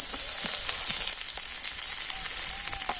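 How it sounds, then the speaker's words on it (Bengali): Chopped garlic and ginger hiss and crackle in hot oil in a pan, a steady, close sizzle with scattered pops throughout and no voices. "তেল গরম হয়ে গিয়েছে তো প্রথমে আমি তেলের মধ্যে দিয়ে দেব রসুন কুচনো দিয়ে দিচ্ছি আদা কুচনো"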